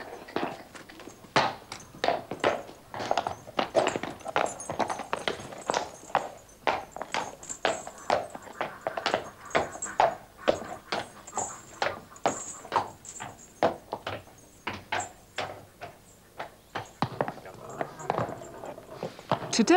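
Steady clip-clop of heavy shire horse hooves walking on a hard surface, an even rhythmic beat close by, continuing throughout.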